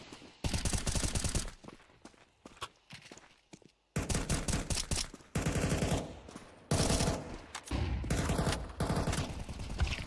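Rapid automatic rifle fire in Counter-Strike 2, loud close bursts of dense shots separated by brief gaps, several long sprays in a row with no voices over them.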